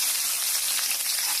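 Chopped onions, whole garam masala and cumin sizzling in hot mustard oil for a chicken do pyaza, a steady bright crackling fry heard close and alone, no talk.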